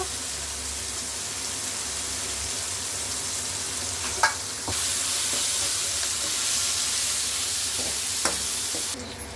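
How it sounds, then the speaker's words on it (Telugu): Potatoes with turmeric frying in a pan, a steady close sizzle and hiss with a few faint clinks of stirring, no voices. "ఆలు బాగా వేగిపిండి చూస్తున్నారు కదా"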